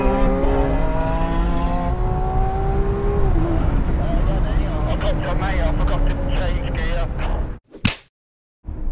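A McLaren 720S Spider and a Lamborghini Aventador drag racing, engines climbing through rising revs with gear changes, loud and close, followed by an abrupt whoosh and sudden cutoff near the end.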